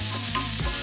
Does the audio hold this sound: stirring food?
yes